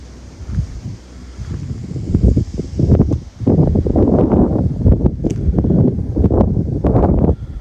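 Wind blows in strong gusts around a priest's house at night, rising in rough roaring surges with blustery buffeting close to the microphone, steady and loud after a quieter start.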